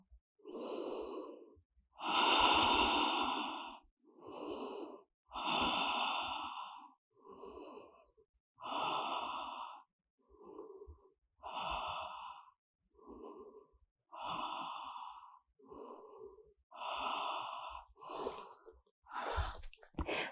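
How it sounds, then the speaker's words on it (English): Slow, deep breaths are drawn during a yoga pose, about a dozen rhythmic inhales and exhales. The breathing is close, clear and alone, with no talk. "And just breathe here."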